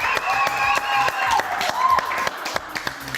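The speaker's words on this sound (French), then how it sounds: "que je vous demande d'applaudir très très fort" A studio audience on a French television show claps and applauds loudly and steadily for a few seconds, with a voice and tonal sounds running over the clapping.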